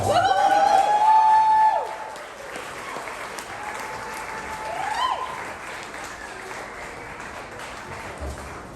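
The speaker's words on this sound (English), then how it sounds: "Please give a warm round of applause for the very funny Temple the Bard." A comedy club crowd at Whirled Pies applauds comedian Temple the Bard, with loud clapping and a few whoops for about two seconds before it thins into lighter, scattered clapping and room noise.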